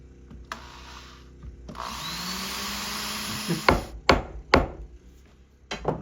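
A power drill whirs steadily into pallet board wood for a couple of seconds, then stops, followed by several sharp knocks and clatters close by.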